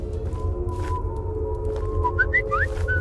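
A character whistles in the video game Choo Choo Charles, a short rising melodic whistle repeating several times near the end over a steady low hum and game ambience.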